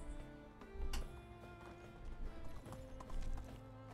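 Horse hooves clop in a quick irregular rhythm over a busy background of game music and effects in the video game Medieval Dynasty, fairly faint.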